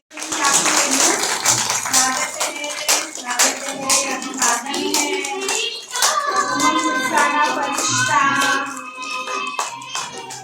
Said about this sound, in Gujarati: કરતલ ધ્વનિથી જગ્યા પરથી ઊભા થઈને આપણે વંદન કરીએ છીએ